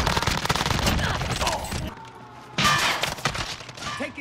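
Rapid automatic gunfire bursts and heavy thumps in Call of Duty Warzone, dense and loud at first, dropping briefly, then a fresh volley of shots with scattered impacts.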